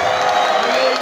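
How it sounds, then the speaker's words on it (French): Loud crowd noise at a UDPS political rally, with dense clapping mixed with cheering and shouting voices in a brief, continuous burst. "il faut encore applaudir."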